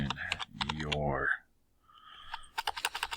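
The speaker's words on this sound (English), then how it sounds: "boy, typing's horrible" Keys clatter on a computer keyboard in a quick burst of clicks, then a pause, then a rapid run of crisp, fairly close taps, with a person's voice speaking over the start.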